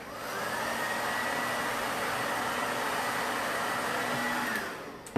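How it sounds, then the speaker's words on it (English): A blow dryer runs steadily with a loud, broad whooshing roar and a faint whine, holding constant for about five seconds before cutting off. "I'm just going to hit it with a blow dryer."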